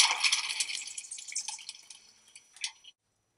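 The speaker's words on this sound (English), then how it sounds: "Many of the Old World species, like this African gray, will prefer to take their own bath." An African grey parrot bathes in a wide, shallow planter saucer, splashing water in quick bright bursts that thin into a few last drips and a brief final splash. The splashing is close, with no voices.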